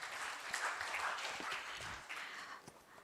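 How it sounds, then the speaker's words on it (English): Faint, distant applause from an audience at a team presentation during a competition grand finale, a steady wash of clapping lasting a few seconds, quiet in level. "Let's give a huge round of applause for their outstanding presentation"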